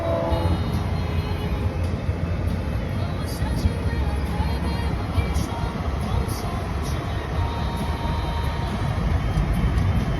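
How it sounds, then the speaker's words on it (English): A GO train passes a railroad crossing on Mulock Drive, a loud continuous rumble of rolling rail cars with road traffic in the background. "It's gonna be a GO train that's either coming to the left or the right."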